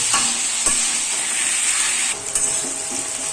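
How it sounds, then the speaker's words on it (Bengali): Potatoes seasoned with salt and turmeric fry in hot oil, a steady close sizzle with a few sharp stirring scrapes of the pan. "আলুটার মধ্যে আমি অল্প নুন আর হলুদ দিলাম, দিয়ে আলুটাকে ভেজে নিচ্ছি।"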